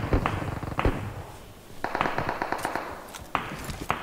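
Gunfire in PUBG Mobile, sharp cracks in quick bursts of several shots, then a pause and more clusters of distant-sounding pops with faint taps between.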